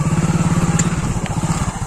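Motorcycles are being parked beside a village water tank in a jungle at night. One engine idles close by with a steady, pulsing throb and no voices.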